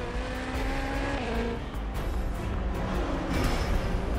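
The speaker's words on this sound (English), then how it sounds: "we proudly present the original machine," A Super Formula SF14 race car at speed, its engine a loud, sustained high-revving whine with shifting pitch and a brief gear change, heard close without any voices.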